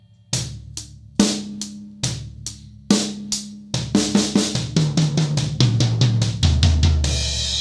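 A drum kit plays a fill built on a shifted permutation of sixteenth notes, with several spaced hits that speed into a rapid, loud run and end on a cymbal crash.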